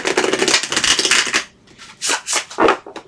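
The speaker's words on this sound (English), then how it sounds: "One more shuffle here." Tarot cards are shuffled by hand in close, crisp bursts: a long riffling run, a short pause, then several quick separate shuffles.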